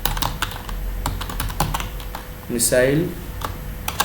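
Rapid clatter of computer-keyboard keys as Python code for a missile-firing game is typed, irregular bursts of clicks running steadily under someone talking in Hindi.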